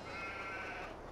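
Sheep bleating in the Farming Simulator 22 video game, a steady, drawn-out bleat running the full length at moderate volume with no talk.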